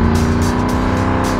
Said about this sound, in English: There's a certain expectation of what a Mustang sounds like